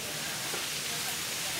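Fish grills over coal briquettes in a Korean grilled-fish alley, giving a soft, even sizzling hiss that stays faint and steady throughout.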